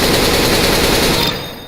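Sustained automatic rifle spray in CS:GO, a rapid unbroken stream of loud gunshots emptying a 30-round magazine, cutting off abruptly near the end with a brief fading tail.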